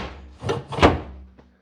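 A sturdy drawer in a table saw cabinet is pushed shut, giving two close wooden bumps as it slides in and hits the back of the cabinet, followed by a faint small tap.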